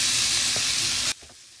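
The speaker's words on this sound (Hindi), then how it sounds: "हल्का सा फ्राई करेंगे। अब हम इसमें आलू डालेंगे" Spices and potatoes frying for a samosa filling, a loud, steady hissing sizzle that cuts off abruptly partway through, leaving only faint quiet clatter.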